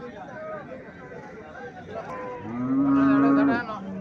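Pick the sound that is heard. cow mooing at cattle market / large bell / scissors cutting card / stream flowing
cow mooing at cattle market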